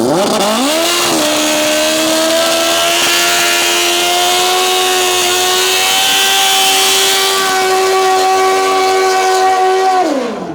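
A drag race car does a burnout at a Canadian drag racing event. The engine roars loud and close with a sustained, slightly rising whine for about ten seconds, then cuts off.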